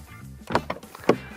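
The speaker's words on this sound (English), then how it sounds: "As you'll see when I shut the door," A Dacia Duster's car door swings shut in two or three solid thumps over about a second, the last one sharpest, each a close, dull knock with a short rattle of trim, with no voices present.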